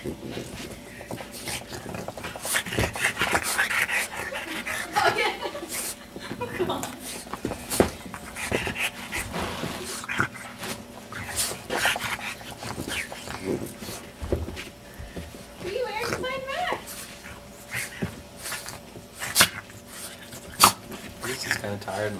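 A tired puppy pants and whimpers softly nearby, with rustling and light movement, while people talk over it through much of the recording.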